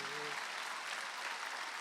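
A church congregation claps during a Wednesday worship service, brief steady applause under the tail of a spoken voice at the start.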